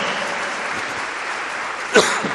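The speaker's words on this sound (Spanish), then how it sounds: "Dele fuerte las palmas al Señor." A church congregation claps their hands together in praise, a dense, continuous patter of many hands filling the room, with a brief louder burst near the end.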